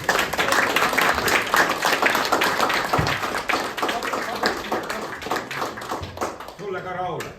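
An audience at a commemorative event applauds, a loud, dense wash of clapping that gradually thins, with a voice speaking over the tail end.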